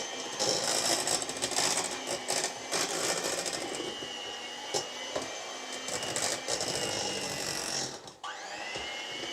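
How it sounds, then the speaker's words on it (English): Kitchen machine whirring and straining as it mixes a large batch of potato for a Karelian dish, a continuous close grinding motor hum that dips briefly near the end. "This machine is also struggling because there's so much potato here."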